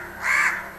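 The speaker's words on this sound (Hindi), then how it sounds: "ये जो कौवा सुन रहा है ना, कौवा लगता है आज खाना देना भूल गए हैं" One drawn-out crow caw, clear and fairly close, standing alone without any voices.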